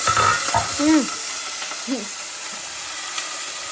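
Potatoes fry in a little oil for vegetable Maggi, making a continuous soft hiss and sizzle with brief voices over it early on.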